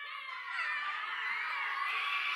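A group of children scream together on cue at a kids' day camp event, a sustained, loud, high-pitched crowd shriek that holds steady throughout.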